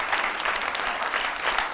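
Audience applause for a young girl singer on a children's talent show stage, a steady dense clapping from a large crowd that fills the whole stretch without pause.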